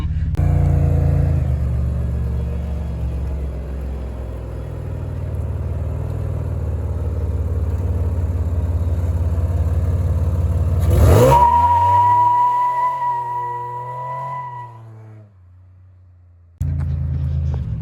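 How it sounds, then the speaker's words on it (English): A supercharged Pontiac Bonneville SSEi doing a standing burnout, with a loud sustained engine roar and tire noise that climbs sharply in a rev, holds a high whine, then drops away to a low idle before the roar returns. "That was like the first burnout it's ever done in its life. Standing burnout, I guess."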